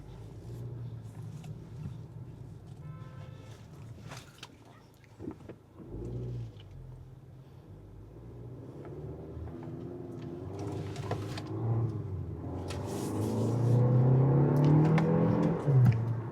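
Kia K4 GT-Line turbo hatchback accelerating around a roundabout, a steady engine drone that builds and grows louder toward the end, with tyre and cabin noise throughout.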